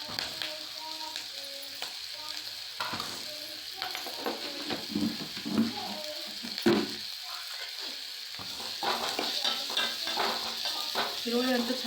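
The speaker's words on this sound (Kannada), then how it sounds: "ಈರುಳ್ಳಿ ಅಂತೂ ಚೆಂದಾಗಿ ಎಣ್ಣೆಗೆ ಹೊಂಬಿದಾರೀಗ" Sliced onions sizzle and crackle steadily in hot oil in a pan at a home cooking fire, with occasional scraping and stirring clatter of a utensil over the continuous frying hiss.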